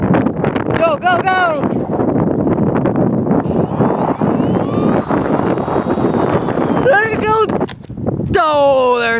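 Strong wind buffets the microphone outdoors while people try to launch a model plane, broadband rushing throughout, with loud excited voices talking over it at the start and end.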